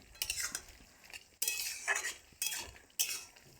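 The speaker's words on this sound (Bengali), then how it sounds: "একটু নেড়ে লাগিয়ে নেব" A spoon stirring cauliflower stem curry (chorchori) in a pan, four separate bursts of scraping and metallic clinking with soft frying underneath, close but fairly quiet.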